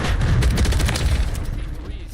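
Cruise missile strike in a Call of Duty match, a dense run of booming blasts and gunfire-like rumble that fades over a couple of seconds, with voices talking over it.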